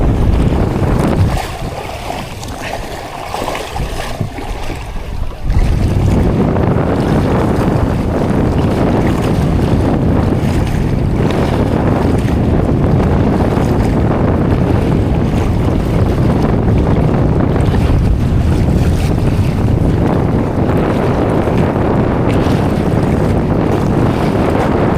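Rough seas batter a small fishing boat out catching tamban. Heavy wind roars over the microphone with constant wave wash, easing briefly before surging back to a loud, unbroken blast.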